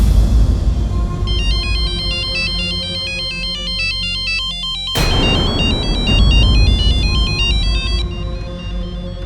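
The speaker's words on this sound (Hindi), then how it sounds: "इस पे किसी का भी फोन आना मतलब जरूर कोई ऋषि के बारे में खबर देना चाह रहा होगा।" A mobile phone rings with an incoming call: a loud electronic ringtone plays a repeating melodic pattern that restarts partway through, with no voices.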